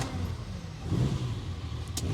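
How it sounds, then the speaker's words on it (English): A 1969 Ferrari 365 GTC's Colombo-derived V12 is cold-started after sitting outside, heard from inside the car. It is a steady, dense engine rumble with a slight swell in the middle, and no one speaks. "So here's our cold start because it's been sitting outside for quite some time today."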